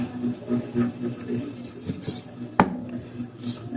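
A knife scrapes and saws through raw chicken legs being cut up for fried chicken, with soft rasping strokes, a faint hum, and one sharp knock of the blade against the board partway through.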